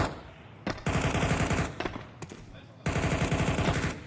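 Pistol fire from a Counter-Strike esports match, heard as dense rapid volleys of shots in two long bursts with a short sharper burst between, loud and close in the game mix.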